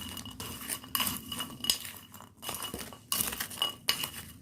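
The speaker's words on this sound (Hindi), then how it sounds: "आपको अच्छे से स्पून की हेल्प से हमारा जो आंवला कैंडी बन रहा है उसको अच्छे से मिक्स कर लेना है" A spoon clinks and scrapes against a glass dish while stirring sweet amla candy, sharp metallic taps recurring irregularly over a soft scraping bed, close and fairly loud, with no talk.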